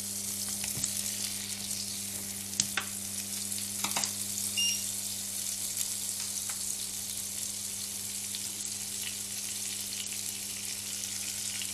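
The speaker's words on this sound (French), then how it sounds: "On va faire fondre du beurre." Butter melts in a hot pan and gives a steady, close sizzle and crackle. Faint pops and a low hum sit beneath it, with no voices.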